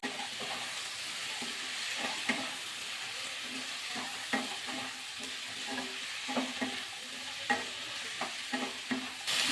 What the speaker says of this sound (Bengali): ভালো করে একটু মিশিয়ে দিলাম।